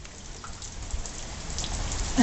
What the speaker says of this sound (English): let him play in the rain